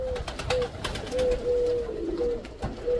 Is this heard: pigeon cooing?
yes